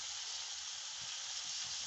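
Constant bright hiss of ground masala and chicken sautéing in a pan, with soft low scraping sounds of stirring underneath.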